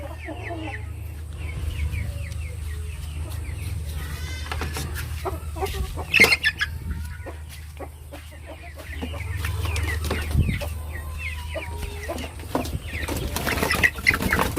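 Rhode Island Red pullets and hens in a backyard flock cluck and chatter continuously at close range, with a few sharper squawks rising over a low background hum.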